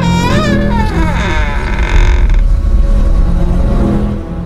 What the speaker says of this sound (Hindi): अचानक से घर का दरवाजा खुला